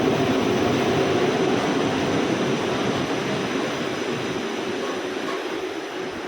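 A steady, loud rushing rumble of a driverless train moving along the track in Malaysia, broadband and constant, slowly easing off toward the end.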